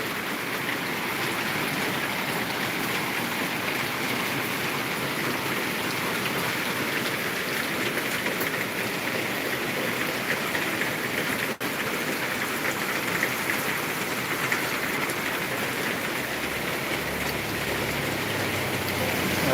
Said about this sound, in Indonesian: Cuaca lagi hujan